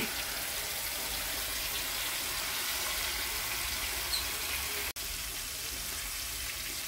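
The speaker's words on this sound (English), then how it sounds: "Frying up the fish." Fish frying in a pan for a home-cooked lunch, a steady, dense sizzle that stays constant and fairly loud throughout, with a single sharp click partway through.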